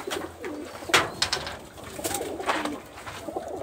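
Giribaj pigeons coo close by in soft, repeated rolling calls, interspersed with sharper rustling and wing or handling noises.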